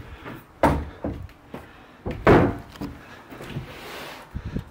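A large built-in wardrobe door opens in a furnished room, giving a few sharp wooden knocks and thumps with quieter handling rattles between them, close by and with no talking.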